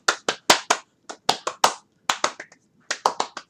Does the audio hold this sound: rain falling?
no